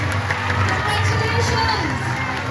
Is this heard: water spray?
no